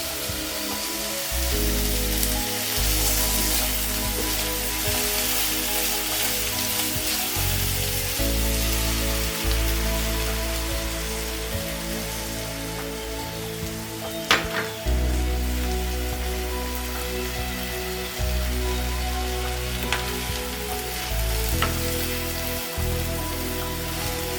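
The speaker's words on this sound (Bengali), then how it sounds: "এবার এর মধ্যে আমি ডিম অ্যাড করবো।" Egg frying in a hot pan with chillies for Bengali egg macaroni, a dense continuous sizzle and crackle close up, with a low hum underneath and no talk.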